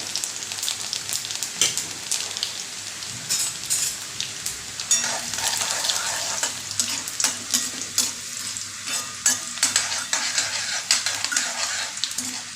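Garlic and cumin seeds fry in hot tempering oil for dal fry, a continuous bright crackling sizzle with rapid popping and occasional stirring scrapes, close and unbroken by speech.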